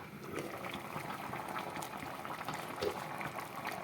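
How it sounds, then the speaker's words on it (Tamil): A pot of beetroot sambar bubbling at a steady simmer, continuous soft gurgling and popping close by with no talking. "இப்போ நமக்கு நல்ல ஒரு கொதி வந்துடுச்சு"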